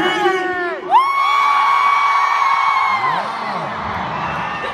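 Huge arena crowd at London's O2 Arena during a Slam+ Tour show cheering and whooping, a loud sustained roar with rising and falling shouted pitches, a few voices standing out above the mass.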